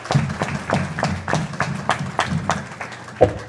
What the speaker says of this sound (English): Can you please give them a big round of applause for helping us with that?